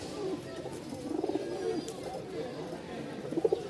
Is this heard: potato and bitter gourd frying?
no